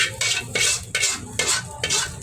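Sautéed garlic and onion with their oil go into a pot of Filipino pork and chicken afritada stew and get stirred, giving four bursts of close, wet scraping and shuffling in an even rhythm, with no talking.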